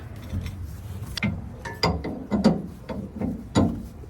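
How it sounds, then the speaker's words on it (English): Rear suspension bushing being pushed out on a 1998-2004 Toyota Tacoma, heard as a series of sharp metallic clicks and ratcheting knocks at irregular intervals, close and fairly quiet. "Pushing the bushing out on this side."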